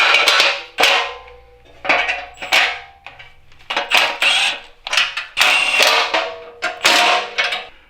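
Mechanical clanks, ratcheting and creaks of parts being bolted onto the smashed frame of a wrecked 2017 Ford Focus RS, coming in repeated bursts of close, fairly loud metallic workshop noise with no talk.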